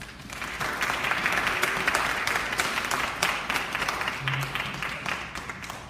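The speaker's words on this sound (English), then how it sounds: "Let's give them one more round of applause." Audience at a student election debate applauds the presidential candidates, continuous moderately loud clapping from a room full of people, swelling then gradually thinning out.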